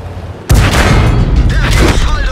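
A tank cannon shot in the video game World of Tanks, a sudden loud boom that cuts in and rolls on as a heavy rumbling blast for about two seconds.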